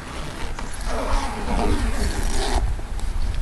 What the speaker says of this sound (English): Once the crate door is zipped